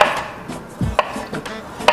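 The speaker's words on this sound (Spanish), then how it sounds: "Forma mala de pelar el jengibre. Tomarla y empezarla a cortar pedacitos." A knife chops fresh ginger into small pieces on a board, a few irregular, fairly close thuds and taps spread out over a couple of seconds.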